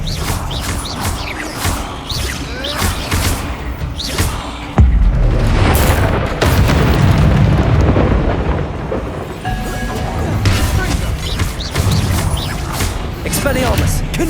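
Confringo blasting spell in Hogwarts Legacy, a deep booming explosion with crashing debris that rumbles on for several seconds amid other spell effects and game noise, with a voice talking over it.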